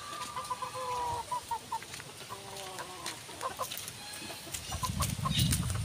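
Pet chickens from a pumpkin hatch, about five months old, cluck and chatter in short repeated calls close by, with a low rumble building near the end.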